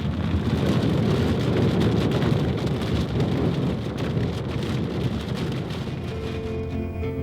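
Heavy rain pours steadily from a thunderstorm in Tornado Alley, with a deep rumbling wash of thunder underneath, loud and continuous throughout.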